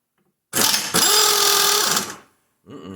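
An impact wrench removes parts being separated for modification: a close, loud, whirring burst of almost two seconds, then a brief pause and a shorter second burst.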